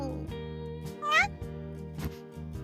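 A kitten in a visual novel video game gives one short, high meow over steady background music, with soft game sound effects around it.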